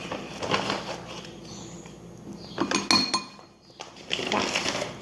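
A spoon clinks against a container and utensils while measuring a slime ingredient, a few scattered metallic taps and clatters close by, with no talking.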